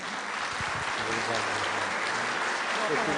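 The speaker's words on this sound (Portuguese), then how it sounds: "Uma salva de palmas, Otacílio." Applause from a crowd, steady clapping throughout, with brief voices near the start.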